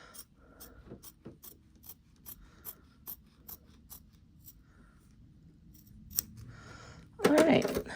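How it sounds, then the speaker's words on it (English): Scissors snip steadily through fabric trimmed for a flip flop bag, a string of short, crisp, close cuts in a quiet room, ending with a louder rustling burst. "go ahead and finish trimming over on this side"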